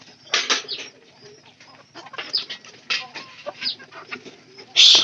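A hen clucks among pigeons in a home poultry and pigeon coop, with repeated short bird calls and coos close by and a brief louder squawk at the end.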